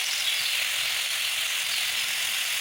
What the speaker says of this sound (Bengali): ফুলকপি আলুটা দিয়ে দিলাম এটাও আমি এখন কষাতে থাকবো